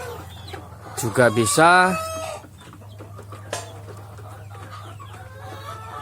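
KUB chickens on a farm give a close burst of loud clucking and a short crowing call, then softer scattered clucks over a steady background hum, with brief speech.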